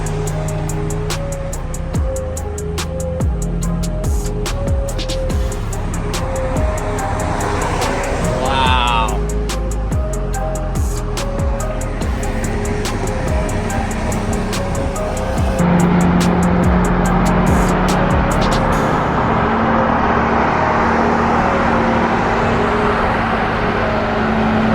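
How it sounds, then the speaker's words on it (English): McLaren Sabre supercar driving past at a private collection with Koenigsegg, Pagani and Bugatti hypercars nearby, a steady engine drone under continuous talk that swells louder in the last stretch. "McLaren Sabre coming up."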